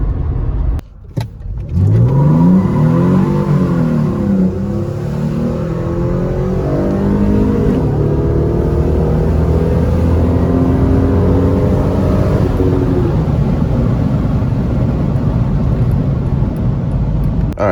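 A supercharged Mercedes C32 AMG fitted with a 65mm titanium pulley launches hard and accelerates through the gears on a 0-60 run, its loud engine climbing in pitch with shifts and supercharger whine, heard close from inside.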